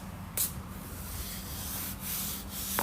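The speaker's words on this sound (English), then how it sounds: "So we had plenty of time after to get these sanded down, as you see." Dashboard pieces for a mini truck sanded by hand, producing a continuous close gritty rubbing with a few sharper scrapes, alone without talk.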